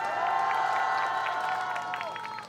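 At a Korean political rally for a new party, a crowd cheers and shouts with loud sustained voices and some clapping for a few seconds, the noise easing slightly toward the end.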